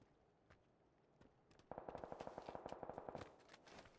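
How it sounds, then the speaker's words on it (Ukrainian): Automatic gunfire in the PUBG battle royale game, a rapid burst of roughly twenty evenly spaced shots lasting over a second, moderately loud after quieter scattered single shots. "От позаду вони стріляються, окей, він його вбив."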